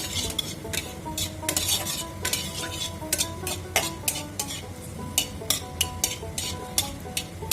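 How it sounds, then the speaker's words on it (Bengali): Black cumin seeds and dried chillies frying in oil in a wok, a soft steady sizzle under repeated sharp metallic scrapes and taps of a spatula stirring, close and fairly loud, with no talking. "একটু আমি ভেজে নেব"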